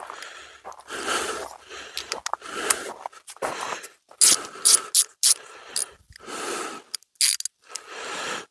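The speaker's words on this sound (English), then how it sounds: "a ratchet." A ratchet wrench clicks in bursts while loosening a bolt during a car oil change, rapid ratcheting runs alternating with short pauses, close and fairly loud.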